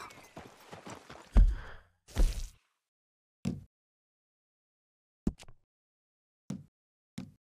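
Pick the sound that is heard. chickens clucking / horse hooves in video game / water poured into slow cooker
horse hooves in video game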